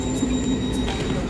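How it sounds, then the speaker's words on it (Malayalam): Swiss double-decker train pulling into a platform near Interlaken, a steady close rumble with a faint high wheel squeal running through the whole moment, no voices. "നമ്മുടെ ട്രെയിൻ എത്തി"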